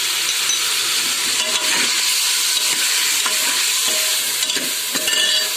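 Chicken frying in a pan as garlic and ginger are added, a steady close sizzle with stirring and scraping running loudly throughout, alone with no talk.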